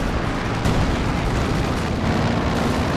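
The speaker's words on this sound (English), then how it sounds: "Good Zis barrage shutting down that pressure." ZiS field gun artillery barrage in a Company of Heroes 2 two-versus-two match: a dense, continuous roar of booming shell impacts and rumbling blasts, loud throughout, with a sharper burst partway in and no voices.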